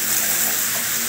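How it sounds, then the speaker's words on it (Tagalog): Water gushes from a hotel bathroom shower and tap, a steady hissing stream running continuously and close by, with no talking. "Binuksan mo, sa tubig, lalabasin yung shower at the same time."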